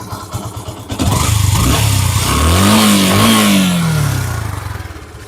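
A V-twin motorcycle starts with a few sputters, then its engine revs up and holds a rising, throaty note before easing back down, loud and close.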